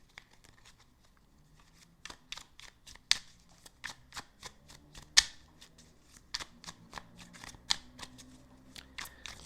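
Playing cards being shuffled in a quiet room, a long run of quick papery riffles and flicks with sharp snaps at intervals, close and fairly soft with no voice.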